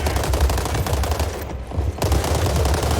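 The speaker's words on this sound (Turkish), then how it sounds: "QBZ-95 Düşük atış hızını düşük geri tepmesi ve kolay kullanımıyla telafi eder." QBZ-95 assault rifle fire in the World War 3 shooter game: rapid, loud automatic bursts crackle almost continuously, with a brief pause in the middle before firing resumes.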